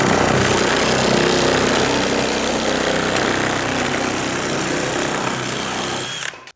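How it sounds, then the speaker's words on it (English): A handheld power cutter grinds loudly and continuously through Hardie backer cement board for about six seconds, then winds down at the end, close up and with no voices. "if you're gonna be cutting a lot of hardy backer"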